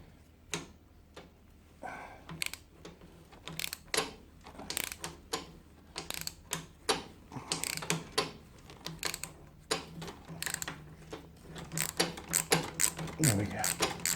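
A 1/4-inch drive ratchet works tight, thread-locked bolts on a GSXR750 during a steering head bearing job, giving bursts of sharp clicking pawl ticks close by, irregular and repeated throughout.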